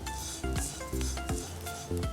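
Sesame seeds being stirred and rubbed around a pan while making sesame kozhukattai, a repeated scraping rasp in steady strokes, close and fairly quiet, with no talking.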